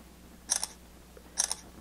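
Two crisp shutter clicks from a Samsung Galaxy S5 phone camera, spaced about a second apart, each a short double-tick, close and clear against a quiet background.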